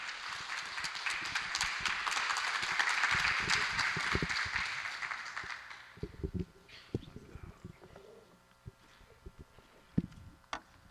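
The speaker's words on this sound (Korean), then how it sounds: "박수로 환영 부탁드리겠습니다." Audience applause welcoming a priest speaker at a Korean talk event, a dense burst of clapping for about six seconds that fades into scattered claps and room noise.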